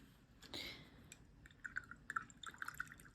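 A paintbrush is swished and tapped in a water cup at close range, with quiet drips and small wet clicks coming in a loose cluster after a brief splash.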